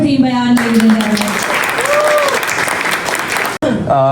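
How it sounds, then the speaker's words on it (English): An audience at a TIFF Toronto panel event bursts into loud, sustained applause and cheering, with voices speaking briefly before and after the clapping. "a huge round of applause for Team Bayan, ladies and gentlemen"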